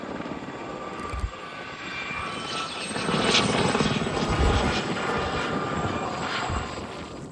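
A Gazelle helicopter flies steadily nearby at an air show, its rotor and engine roar holding loud and constant with a slight swell midway, no voices.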